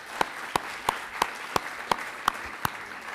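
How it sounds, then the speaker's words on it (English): School assembly audience clapping for students at a high school awards event, heard as a few sparse, distinct claps spaced at a slow, regular rhythm rather than a full ovation. "So give them a round of applause."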